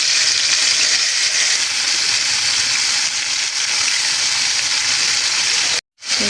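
Puti fish frying in hot oil in a pan, a dense steady sizzle and crackle holding loud and close for several seconds, cutting out abruptly near the end before resuming.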